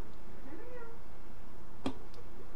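A domestic cat gives a short, soft rising meow, followed later by a sharp brief sound, all close against a low steady background hum.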